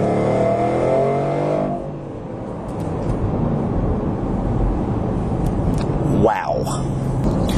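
A Range Rover Overfinch SVR revs hard with a loud harmonic engine howl, then settles into a sustained rushing roar while driving, with a brief sharp rise near the end.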